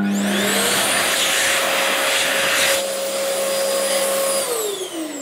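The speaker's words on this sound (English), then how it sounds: "That's right, it's a hand dryer." An electric hand dryer in a washroom runs loud and steady with a high motor whine and a rush of air, then winds down near the end.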